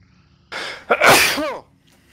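One loud, close sneeze bursts out with a sharp intake and a forceful release, standing alone against near silence.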